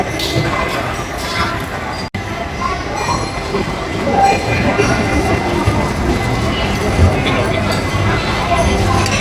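A small ride-on train in a shopping mall rumbles steadily with rattling wheels and a busy, echoing crowd murmur around it, loud and continuous.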